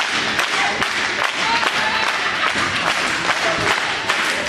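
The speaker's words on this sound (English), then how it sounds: "Fans are trying to cheer them on." Wrestling fans cheer and applaud in a dense, steady burst of clapping and crowd noise, with a commentator faintly talking underneath.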